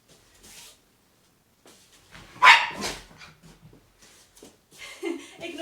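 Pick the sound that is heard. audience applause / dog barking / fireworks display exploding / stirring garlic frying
dog barking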